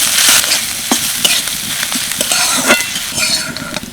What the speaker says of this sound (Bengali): পেঁয়াজ ভালোভাবে ভাজা হয়ে গেছে